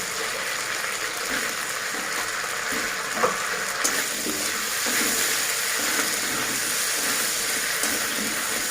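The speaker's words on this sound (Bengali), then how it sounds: "এবার ওর মধ্যে ওই তেলের মধ্যে আমি কপিগুলো দিয়ে দিচ্ছি। কপিগুলো দিয়ে ভেজে নিচ্ছি।" Cauliflower florets frying in hot oil in a kadai, the oil already used for frying fish, with a steady, dense sizzle and crackle that holds at an even level throughout, with a few small pops.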